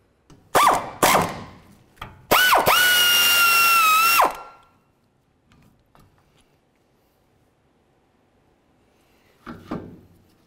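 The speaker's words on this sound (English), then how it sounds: "We'll remove each of those mounting bolts and then the caliper from the bracket." A power tool works the 13mm caliper mounting bolts on a 2014-2018 GMC Sierra 1500 rear brake: loud close bursts, then a sustained whirring run that winds down, followed by quiet clinks and a final short burst.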